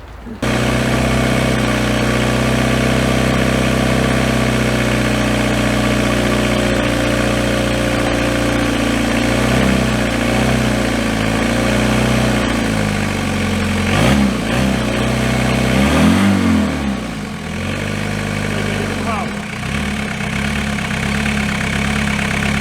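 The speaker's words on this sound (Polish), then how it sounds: "Silnik chodzi, teraz chodzi" A Citroen C15D diesel engine idles steadily at close range, its pitch rising and falling with a few revs partway through before settling back to idle.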